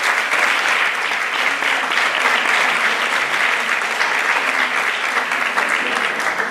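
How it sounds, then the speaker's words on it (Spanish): Dense, sustained audience applause from a crowd at the float presentation of the Laredo 2024 Battle of Flowers, loud and steady throughout with no break. "Un aplauso."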